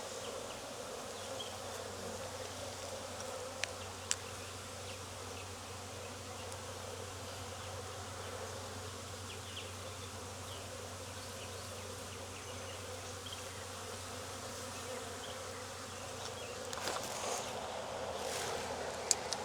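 Honey bees swarm around an open beehive in a Jacksonville, Florida yard, making a dense, steady buzzing drone throughout with a few faint clicks and knocks and no talking.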